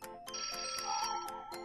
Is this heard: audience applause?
no